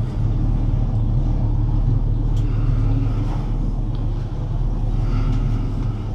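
A boat motor runs at a steady low rumble while the boat backs up, loud and continuous throughout with no break.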